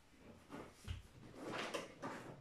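A drawer slides open or shut during a search for a stored item, giving a few soft, brief knocks and scrapes, fairly quiet and close, with no talking.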